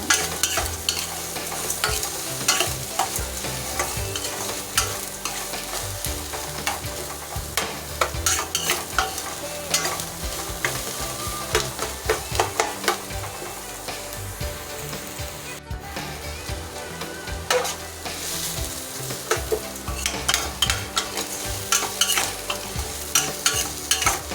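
Vegetables for poori masala sautéing in a pan while being stirred, a sustained sizzle broken by frequent rhythmic spatula scrapes and clatters against the pan, close and fairly loud, with no speech.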